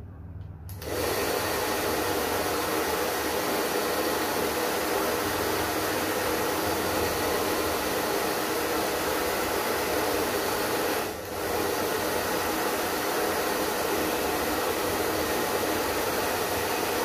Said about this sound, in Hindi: देखिए मैंने कितना हल्का ड्रायर मारा है